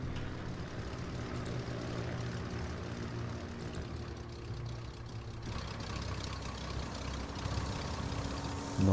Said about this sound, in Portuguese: aterrou aqui um avião que não era para aterrar